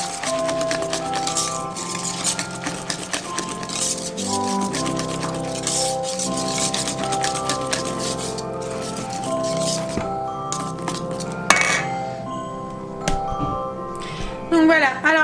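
Coconut cake batter being stirred in a bowl: continuous wet squishing and slapping with occasional clinks of the utensil against the bowl, close and fairly loud, with a clatter near the end.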